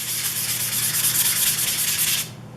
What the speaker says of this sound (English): we're gonna go ahead and just wet sand all the areas where we've Bondoed